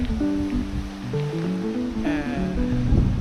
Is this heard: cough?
no